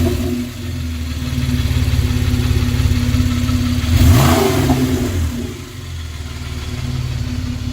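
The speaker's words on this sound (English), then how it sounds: "This one has a bypass from Sharkwerks on the muffler side, so it sounds really throaty, very nice sound." A Porsche 991 911 4S fitted with a Sharkwerks muffler bypass exhaust idles with a deep, throaty rumble, then gives one sharp rev that peaks and falls back to idle, loud and close.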